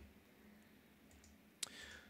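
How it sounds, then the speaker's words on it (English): A single sharp mouse click on a software stop button during a programming lecture on loops, heard once near the end over a faint steady room hum. "I need to stop it by clicking on this stop button"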